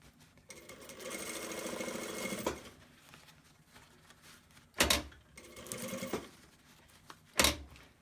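A sewing machine stitches a COVID face mask in two long runs of fast, steady whirring, each ending in a sharp clunk, close and alone without talk.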